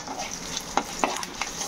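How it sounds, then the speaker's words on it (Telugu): Curry leaves crackle in hot tempering oil for a cucumber pickle. A soft, steady sizzle runs throughout, broken by a few sharp, distinct pops. "ఇదిగోండి వచ్చేస్తుంది చిటపట మన కరివేపాకు వచ్చేసింది."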